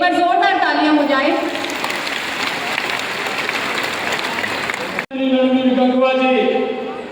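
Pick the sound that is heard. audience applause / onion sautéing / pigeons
audience applause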